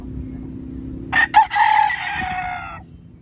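Red junglefowl rooster crowing close by: a single loud, strained crow with a rising opening and a drawn-out tail, set against a low background murmur.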